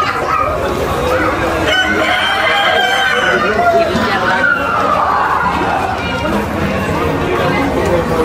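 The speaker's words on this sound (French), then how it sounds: "Voilà, les coqs de concours." Competition roosters at the FEAGA livestock fair in Fuerteventura crowing and clucking loudly, several birds at once amid a busy crowd with steady chatter and voices throughout.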